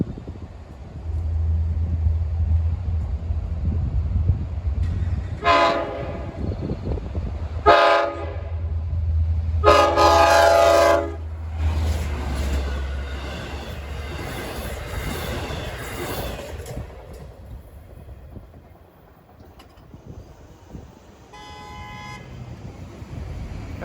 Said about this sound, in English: gates are going down at 12:18 on the Windsor Avenue crossing in Brightwaters for 2796, Jamaica to Montauk